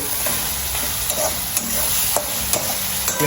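Milk shev bhaji sizzles as it is sautéed and stirred in a pan, a constant frying hiss punctuated by sharp clicks and scrapes of the spoon against the metal.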